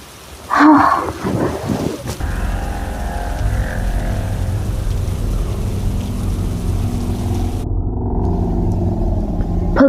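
Heavy rain pours down steadily with a deep rumble of thunder rolling underneath, loud and continuous.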